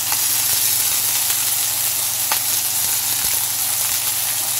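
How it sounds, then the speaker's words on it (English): Sausages dropped into a hot skillet with peppers, a loud steady sizzle and hiss of frying broken by a few small clicks and pops, no voices. "Then I will add the sausages in."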